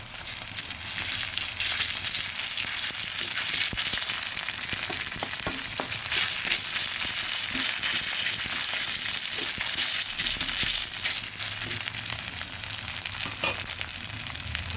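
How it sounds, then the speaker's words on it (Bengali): A continuous close sizzle of onion and ginger paste frying in oil, with scattered pops and occasional stirring scrapes. "পেঁয়াজটা আর আদাটা ভেজে দিচ্ছি"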